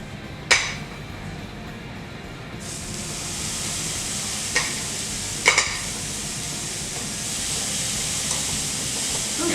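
Two steaks laid into a hot pan hiss into a steady, broad sizzle, with a few sharp crackles and pops rising from the frying, close and continuous with no talking.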